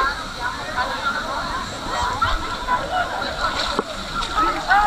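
Splashing and sloshing water as someone dips into the pool at Dudhsagar waterfall, with a steady rush of falling water behind and voices talking over the scene.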